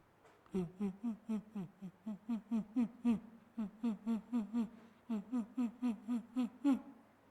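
A performer at a school day event imitates a pigeon's cooing with a long run of soft, rapid, pulsing coos in steady bursts, fairly quiet and close, with brief pauses between phrases.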